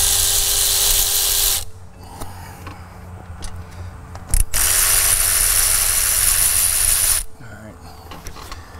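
Ratchet wrench spinning out bolts during a CP4 injection pump swap on a diesel engine: two long bursts of rapid, close clicking separated by a short pause and a sharp clunk, with brief talk in between.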